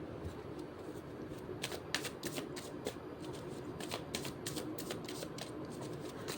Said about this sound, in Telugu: కార్డ్ షఫుల్ చేయడం స్టార్ట్ చేద్దాము